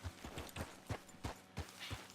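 Horse hooves clip-clop at a steady run in a hunting video game, seven evenly spaced muffled thuds over about two seconds, fairly close with a faint background wash and no talk.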